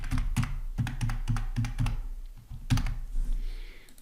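Fingers type a password on a computer keyboard, a quick close run of crisp keystrokes in an irregular rhythm, with a few firmer taps and no talking.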